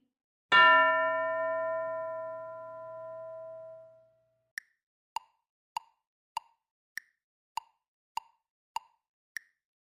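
A school bell rings with one clear, bright strike that hums and fades slowly over several seconds, then a steady series of short, hollow plopping ticks follows at an even pace.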